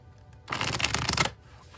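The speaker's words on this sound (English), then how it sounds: "I'll shuffle till the deck feels ready" A tarot card deck riffled in one quick, close shuffle lasting under a second, a dense papery flutter rising from quiet and stopping abruptly.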